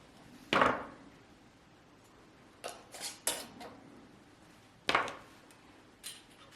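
Glass canning jars of ground beef get their metal lids set and rings twisted on finger tight, giving a few crisp clinks and scrapes spaced apart over a quiet room.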